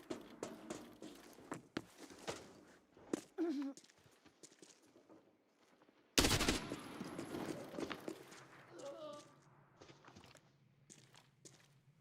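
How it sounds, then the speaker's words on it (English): Gunfire in the video game Arena Breakout Infinite: a single loud, sharp shot breaks out midway, standing well above a busy bed of footsteps, movement and talk. "Which after I shoot my fucking gun."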